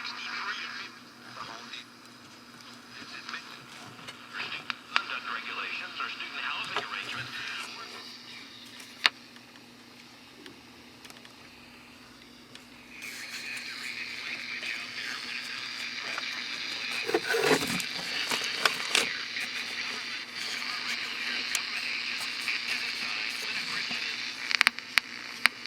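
Five dollar GE radio turned to full volume yet very faint, giving a hissy, crackling broadcast with static and a low hum, quieter in the middle and stronger toward the end.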